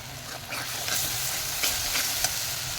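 Spices with turmeric, salt and dry chili powder stir-fried in a pan for raw jackfruit kofta curry, a steady close sizzle with brisk scraping strokes and a few louder clinks, and no voices.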